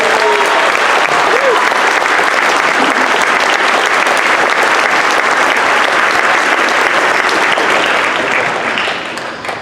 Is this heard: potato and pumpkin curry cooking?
no